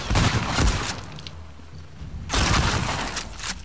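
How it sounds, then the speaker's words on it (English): Gunfire in The Last of Us Part II, two loud bursts of rapid shots and crashing impacts separated by a brief quieter lull of game ambience. "Nice shot!"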